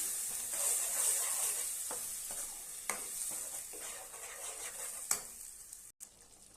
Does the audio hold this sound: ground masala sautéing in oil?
yes